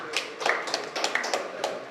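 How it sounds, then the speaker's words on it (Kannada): A few people clap at a felicitation event for a kabaddi academy founder's son, a sparse, uneven patter of separate claps rather than full applause. "ಒಂದು ಚಪ್ಪಾಳೆ ಕೊಡಿ"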